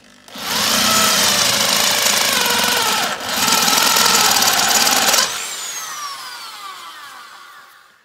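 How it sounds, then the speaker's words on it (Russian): A GRAFF step drill bit bores and widens a hole in a steel gas cylinder, a loud, close, continuous grinding whine that briefly dips near three seconds, then stops and fades into a ringing decay. "Возьму сверло ступенчатое граф и рассверлю отверстие до большего диаметра."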